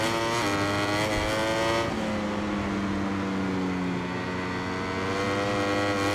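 Racing motorcycles in the video game MotoGP 21, including an Aprilia, engines whining high and shifting pitch as the bikes rev up and down through corners, loud and continuous.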